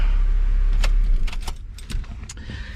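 A Honda Civic's low engine rumble cuts off about a second in. Keys then jangle and clink nearby in several quick bursts. Nobody speaks.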